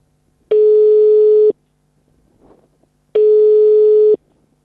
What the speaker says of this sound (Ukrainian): телефонуємо за номером, який написано на бетонних блоках. Ніхто не відповідає.